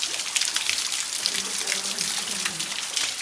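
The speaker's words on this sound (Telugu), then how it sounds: "చిన్న వాటర్ ఫాల్స్, పై నుంచి పడే వాటర్ అంతా కిందికి వస్తున్నాయి." Water falls from above in a limestone cave, a steady hissing patter of drips and small cascades close by, continuous and fairly loud, with faint voices underneath.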